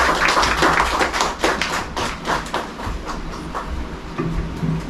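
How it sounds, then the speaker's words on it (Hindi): Audience applause at an open mic show comes as a fairly loud burst of many hands clapping, thinning into scattered claps. "तालियों की आवाज जोर से नहीं आई।"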